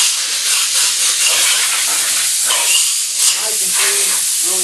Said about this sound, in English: We like to use brake cleaner on it to get all the oil out.